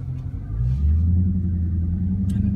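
A Dodge Charger Scat Pack engine rumbling and accelerating from inside the car, a deep steady low growl that swells early and holds loud to the end.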